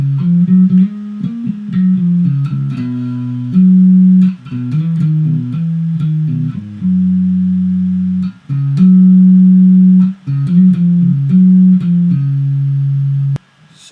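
Bass guitar playing a song intro, a run of loud, clean, sustained low notes that shift pitch in a repeating pattern with brief gaps, close and alone.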